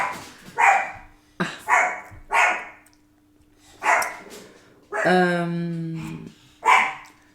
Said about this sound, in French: Ah, c'est mon chien.